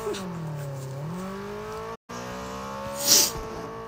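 A car engine in a video game revs up and down in sweeping pitch changes, cut by a brief dropout, then a sharp hiss or screech bursts near the end, all moderately loud with no talk.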